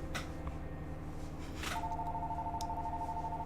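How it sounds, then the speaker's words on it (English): A phone in the video game Raptor Boyfriend plays dialing tones over a steady game music bed, with a brief burst of tones followed by a long sustained ringing tone. "I'm dialing."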